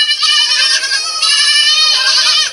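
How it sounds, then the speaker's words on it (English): Goats bleat loudly on a farm, close by, calling over and over in long, overlapping, wavering cries with barely a pause. "I'm a farmer and my goats are, they think I'm gonna feed them."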